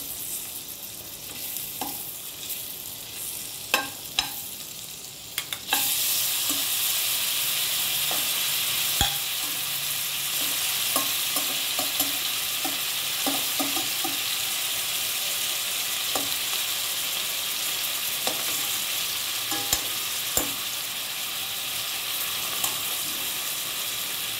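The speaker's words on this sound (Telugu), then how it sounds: "వేగాక ఇందులో పన్నీరు వేసుకోవాలి." Paneer cubes frying in a pan with a little butter, a constant close sizzle punctuated by sharp scrapes and clicks of a spatula stirring, getting louder once the paneer goes in.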